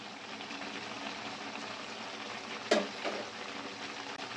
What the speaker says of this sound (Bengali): ঢাকনাটা খুলেছি ভালো করে আমি নেড়ে নেবো